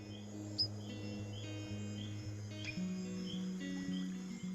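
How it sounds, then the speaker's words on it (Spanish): A male glass frog's mating call in a Panamanian rainforest at dusk: short, high, chirping calls repeat at intervals over a steady night chorus of insects and low hum, faint and distant. "Una rana de cristal macho hace un llamado de apareamiento"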